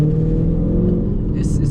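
Dodge Charger SRT with a Diablo tuner, its engine droning loud and steady throughout, a low rumbling note with a light rev rise near the end, heard from inside while driving.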